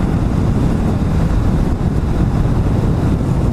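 Steady wind roar buffets the rider on a Kawasaki Vulcan S motorcycle during a highway ride up a mountain, a loud, continuous low rumble with no break across the whole stretch.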